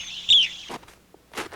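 Backyard birds give a short, bright chirp near the start, followed by scattered soft rustles and another brief burst of chirping, fairly close and quiet, with no talking.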